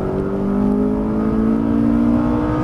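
Ferrari F430 accelerating out of a corner on a race track, a loud, close engine note climbing steadily in pitch as the throttle opens, continuous and without talk.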